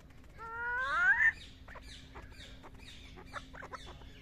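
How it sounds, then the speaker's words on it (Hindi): Pheasants call at a zoo, with one loud rising squawk up front followed by a series of shorter, fainter chirps and clucks, nearby over a steady low hum. "ये कलीज pheasant, silver pheasant, golden pheasant, सब कई टाइप के फेजेंट्स आपको देखने को मिल जाएंगे"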